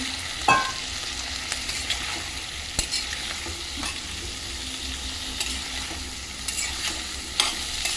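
Ridge gourd and prawns fry in oil in a wok with a constant close sizzle, broken by a few sharp clacks and scrapes from stirring.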